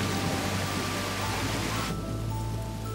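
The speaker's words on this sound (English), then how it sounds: "the hail quickly turns into a downpour" Dense, steady rush of heavy rain pouring down without pause after hail, a loud broadband hiss that dulls slightly partway through.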